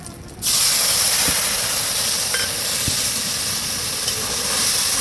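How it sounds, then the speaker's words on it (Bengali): Turmeric and ginger paste hit hot oil in a pan and break into a loud, continuous sizzle that holds steady, close up, with no talking. "এবারে মশলাটা একটু কষিয়ে নেবো ভালো করে"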